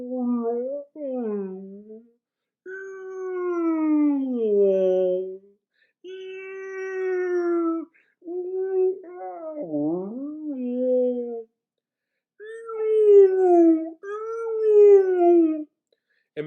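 A voice imitates a whale-like growling tummy with long, wavering moaning and howling tones, rising and falling over several drawn-out phrases separated by short silences, close and clear.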